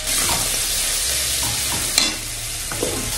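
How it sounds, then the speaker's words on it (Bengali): Olives seasoned with salt and turmeric sizzle steadily in hot tempered oil, a dense continuous frying hiss with a few soft stirring knocks and a sharper clatter near the middle. "এখন আমি এই জলপাইগুলো দিয়ে দিচ্ছি"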